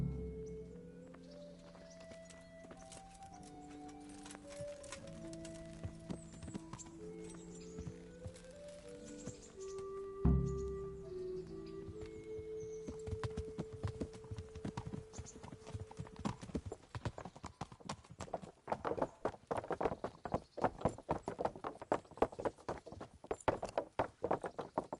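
Horse hooves clip-clop at a steady walking rhythm while riding in Kingdom Come Deliverance, the footfalls growing denser and louder over a quiet orchestral music bed, with a brief neigh near the middle.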